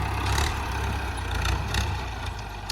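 A Ford 5000 tractor with a rebuilt engine idles nearby, a steady low diesel rumble with a faint rhythmic throb and no talk.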